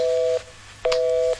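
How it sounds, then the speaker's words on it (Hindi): Two steady telephone tones after a phone call drops, each lasting about half a second with a short silent gap between them, clear and alone. "फोन कट गया।"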